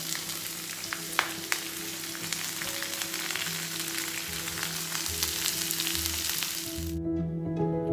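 Ginger, garlic, onion, shallots and curry leaves fry in hot oil with a close, steady crackling sizzle, dotted with sharp pops and soft stirring scrapes, before a low hum takes over at the end.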